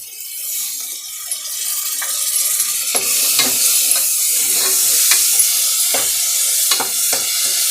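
Spices and mushrooms sizzle steadily in hot oil for a mushroom biryani, with repeated scraping stirs of a spoon through the pan, close and continuous with no talking.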